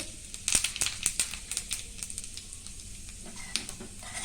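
Cumin seeds sizzle in hot oil as a tempering with mustard seeds for dhokla, crackling and popping in quick irregular bursts over a soft frying hiss, close and fairly quiet.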